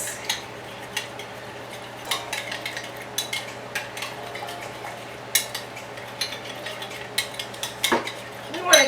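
A spoon stirs and scrapes through a sauce seasoned with salt and white pepper in a pan, with repeated clinks and scrapes at an irregular pace, close and clear over a faint sizzle.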